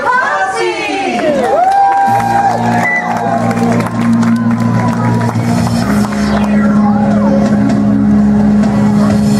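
A party crowd screams, shouts and cheers continuously and loudly, mixed with whoops and a steady humming background, with no clear speech rising above the din.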